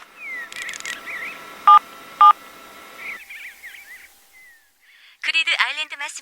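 A telephone number is punched in before a call about a sold-out game, giving two loud, distinct DTMF beeps about half a second apart over background music, followed by a quieter tone and a burst of voice.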